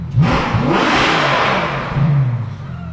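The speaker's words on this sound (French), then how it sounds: "Le V12, c'est un bruit qu'on retrouve plus maintenant, c'est vraiment magnifique." Ferrari F12 V12 engine revving hard from inside the car, a loud rising roar that climbs and sweeps in pitch, then eases and climbs again.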